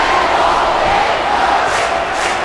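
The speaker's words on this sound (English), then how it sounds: "The crowd is fired up." A wrestling event crowd roars in a loud, sustained wall of cheering and chanting, dense and continuous from start to end.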